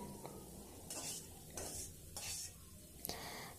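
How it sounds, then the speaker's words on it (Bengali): Mixed elephant apple pieces for a sweet-sour-spicy pickle are stirred in mustard oil in a pan, a soft sizzle with several bursts of scraping spatula strokes and a small clink, quiet and close, without speech. "এই যে আমি এখন মাখানো সেই চালতাগুলো দিয়ে দিচ্ছি। দিয়ে আমাকে এখন নাড়তে হবে।"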